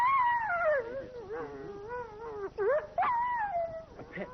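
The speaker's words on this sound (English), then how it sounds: "A pet dog howling at the sound of its wild cousins." A pet dog howls at night, long wavering mournful cries rising and falling in pitch with brief breaks, close and alone.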